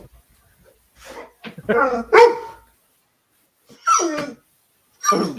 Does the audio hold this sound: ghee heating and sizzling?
no